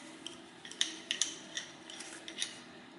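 Metal bolts and tools being handled while removing bolts from a car automatic transmission, with a few sharp clinks and ticks scattered over a quiet hum, close and fairly faint.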